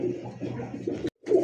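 Pigeons at a Bangladeshi pigeon market, close by, giving low, throaty cooing in soft repeated bursts, with a brief break before the cooing resumes.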